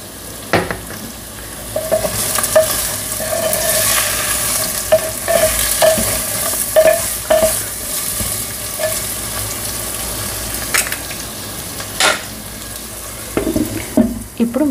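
Pumpkin pieces sprinkled with salt are stirred in a pan on the stove, a spoon scraping and clinking repeatedly against the pan over a soft continuous sizzle.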